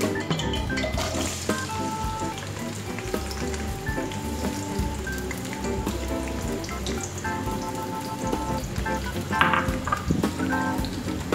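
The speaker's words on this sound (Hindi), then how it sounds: "तेल गरम हो गया अब इसमें हम प्याज शामिल करेंगे" Onions frying in hot oil for chicken biryani, a steady, loud crackling sizzle running throughout with occasional spattering pops, no voices.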